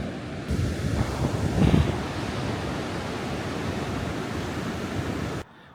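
Ocean waves surging and churning in a rocky coastal inlet at the Devil's Churn, a steady loud roar of surf mixed with wind buffeting, with one heavier surge swelling early and no voices.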